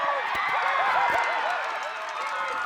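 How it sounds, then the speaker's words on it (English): A rugby league grand final crowd roaring after a try, a dense, loud, continuous cheer filling the short stretch, with shrill whistling on top. "You can hear the crowd. They're in raptures about that."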